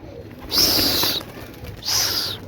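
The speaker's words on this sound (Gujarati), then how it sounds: "ઉડી ગયા લો બધા." Pigeons burst into flight from a loft in two loud whooshes of flapping wings, close by, with a pause between them.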